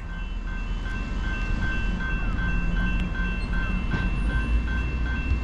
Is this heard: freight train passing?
yes